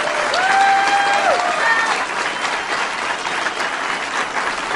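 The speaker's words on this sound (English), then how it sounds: "Go ahead, Republicans, start cheering." Political rally crowd of Republican supporters cheering and applauding steadily throughout, a dense continuous wash of clapping with a few whistles near the start.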